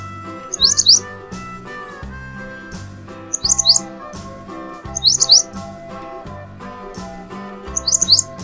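Short bursts of bird chirps from a bulbul, heard in four evenly spaced clusters over a backing of music, each chirp group brief and bright.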